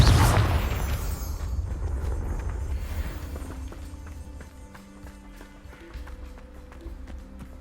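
A Confringo spell blast in Hogwarts Legacy goes off as a loud, close burst, its rumbling tail fading over several seconds into quieter ambience with faint taps.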